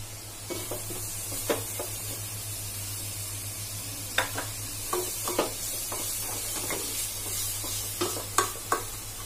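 Chopped onions fry and sizzle in a pan over medium heat, a steady close hiss broken by frequent scraping stirs and light clinks of a utensil against the pan.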